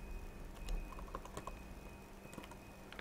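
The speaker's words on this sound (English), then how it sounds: "type in school." Fingers typing on a computer keyboard, a quick run of light, close key clicks with a short pause between bursts, heard alone in a quiet room.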